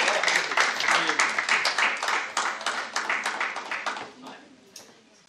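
A mushaira audience at an Eid Milan poetry gathering claps in loud, rhythmic bursts of distinct clustered hand claps that gradually thin out and fade, ending in a few scattered claps.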